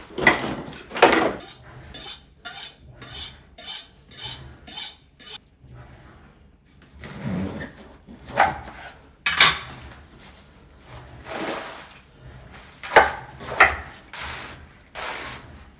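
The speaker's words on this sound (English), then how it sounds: "We're gonna go ahead and start with cutting up our cabbage." A knife cuts through napa cabbage on a board, giving a run of crisp, evenly spaced chops up close, then a pause and more scattered, uneven slicing and crunching.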